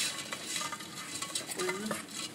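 A fork stirs sugar and almonds in a pot while making burnt almonds, giving soft repeated scraping and clinking against the pot over a faint sizzle, close and quiet.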